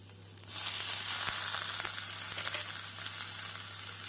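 Beans and carrots stir-frying with onion in a pan for a Tamil beans poriyal, a steady loud sizzle that jumps up after a quiet start and holds on evenly, with a few faint stirring scrapes and no voices.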